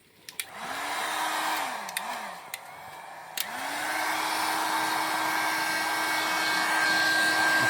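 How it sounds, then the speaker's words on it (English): A heat gun blowing hot air onto a sun-damaged steering wheel on a John Deere 100 series tractor, with a steady whooshing whine that cuts in and out, then holds constant, along with a few sharp clicks. "I'm gonna try to do is just use a heat gun on it and see if it comes off."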